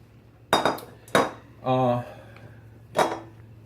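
Sliced onions drop into a ceramic slow cooker crock pot with a few hard clinks and knocks, close by, and a brief voice between them.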